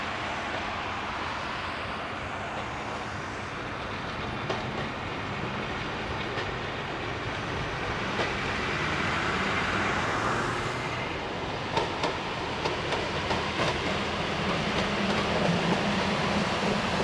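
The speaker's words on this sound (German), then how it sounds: "In langsamer Fahrt rollt das Gespann zurück zum Bahnhof Trossingen." Two old railcars of the Trossingen railway roll slowly back toward Trossingen station, a steady low rumble with faint wheel clicks that swells slightly midway, heard from nearby without voices.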